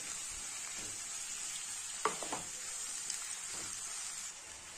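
Chopped tomatoes sauté in a pan for tomato kurma, with a soft, continuous sizzle. A few brief stirring scrapes come midway.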